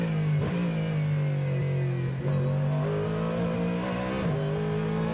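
A Ford Mustang GT3 race car at Le Mans drives through a fast right-hander and slow left-hander, its engine droning loud and steady with a few quick gear-change dips in between.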